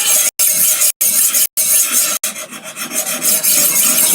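A knife blade rasping against the stones of a Wicked Edge Go sharpener in repeated close strokes, with short gaps between passes and a softer rubbing run at the end.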